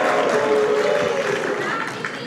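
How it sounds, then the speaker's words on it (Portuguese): Crowd booing during a televised political debate in Rio de Janeiro, a loud, dense roar of many voices sustained for a couple of seconds, then easing slightly toward the end. "As vaias são democráticas, podem fazer, porque golpista é assim mesmo."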